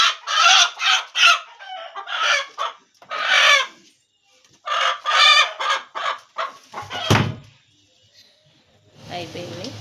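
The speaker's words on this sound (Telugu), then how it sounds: "కోడిని పెడుతున్నాము ఎగ్స్ మీద." A hen clucks repeatedly as she is set down on a clutch of eggs in a farmyard nest, several close bursts of clucking and crowing-like calls with brief pauses, some handling noise at the end.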